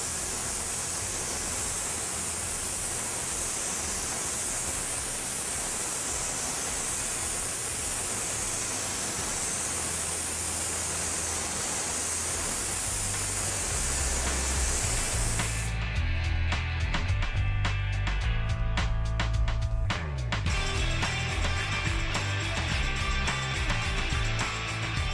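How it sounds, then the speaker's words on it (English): A SATA 2000 spray gun sprays silver paint through a mesh for an airbrushed carbon fiber effect, a steady loud hiss that runs continuously before giving way to a harsher, broken burst of spraying near the end. "I'm going to spray the silver through the mesh here"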